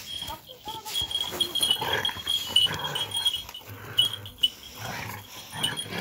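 Dogs scuffle and fight, snarling and yelping in a jumbled, uneven burst of growls and cries, with people talking over the noise.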